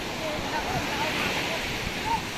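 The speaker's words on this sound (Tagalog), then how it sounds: "medyo malalaki na naman yung alon" Waves rolling onto a Philippine beach during traditional net fishing, a constant rushing surf with wind buffeting the microphone, steady and fairly loud, with a few faint whistle-like tones drifting above.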